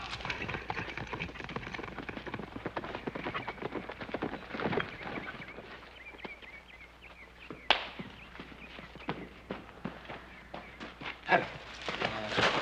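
Horse hooves clip-clop amid rustling outdoor ambience in a Western scene, a faint, irregular patter of steps running steadily throughout with a few sharper knocks and no talk.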